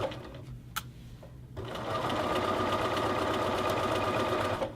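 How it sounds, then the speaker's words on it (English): A sewing machine runs steadily, stitching around a hoodie cuff close to a previous seam; after a brief quieter stretch with a sharp click, the motor hum settles into a continuous, close, even stitching drone. "I'm going to sew just right to where I stitched and stop so they just meet each other."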